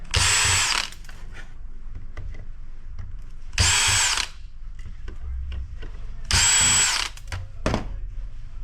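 Power screwdriver backing screws out of a laptop docking station, three short whirring bursts spaced a few seconds apart, loud and close, with quiet handling clicks between them.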